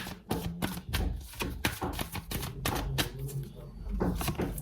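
Tarot cards shuffled by hand in a quick run of sharp, riffling taps and flicks, close and fairly loud, with someone talking over them.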